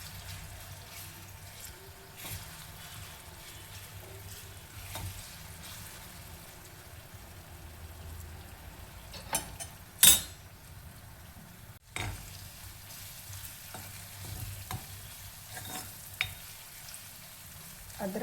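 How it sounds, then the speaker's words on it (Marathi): A ginger, garlic and coriander paste cooks in oil with a soft, steady sizzle, broken by a few sharp spoon clinks and scrapes from stirring, and no one speaks. "अद्रक लसूण आणि कोथिंबीरची पेस्ट तेलामध्ये होत आलेली आहे."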